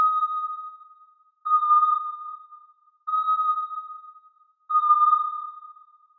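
A synthesized haunted-forest tone rings out from a self-resonant filter soaked in reverb: four steady, pure whistling notes, each swelling in and slowly fading over about a second and a half, repeating evenly with no other sound.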